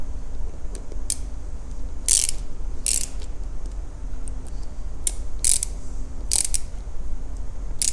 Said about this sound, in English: And then grabbing our 80-inch-pound torque wrench.